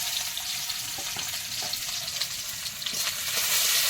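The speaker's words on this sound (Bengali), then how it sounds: "তেলের মধ্যে পেঁয়াজ কুচি দিলাম" Chopped onion frying in hot oil, a steady loud sizzle with small crackles and stirring, close up and continuous with no talk.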